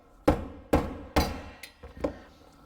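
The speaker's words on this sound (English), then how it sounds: "So we're going to have to hammer it out when in doubt." Hammer blows strike a metal vent valve during teardown, three sharp close impacts followed by a couple of lighter taps, each ringing briefly, with no talk.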